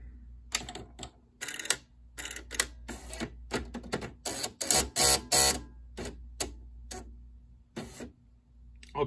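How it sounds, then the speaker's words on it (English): A powered-on Smith Corona WordSmith KA1 electric typewriter gives a busy run of sharp mechanical clicks and clacks in irregular bursts over a low steady motor hum, close and fairly loud, with no voices. "All kind of beautiful clicking and clacking noises."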